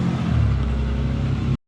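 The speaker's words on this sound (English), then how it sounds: "Making the car even louder." A 2016 Dodge Challenger SRT Hellcat engine idles with a loud, deep, throaty rumble up close, then cuts off abruptly.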